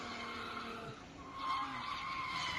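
A Holden Commodore skids sideways while drifting at a drift event, tyres screeching continuously over the steady engine roar, the squeal rising sharply and growing louder midway through.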